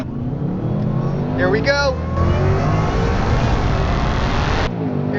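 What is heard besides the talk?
Ford Mustang Dark Horse engine revving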